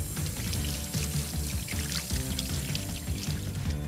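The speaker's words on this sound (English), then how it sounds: "I'm gonna go wash my hands." Tap water running steadily into a sink while hands are washed, a continuous close splashing stream without talk.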